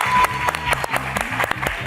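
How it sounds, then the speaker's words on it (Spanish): Live studio audience applauding on a Bible quiz show, a short burst of dense clapping from a crowd, fairly loud and close, with no speech over it. "Nuevamente el aplauso,"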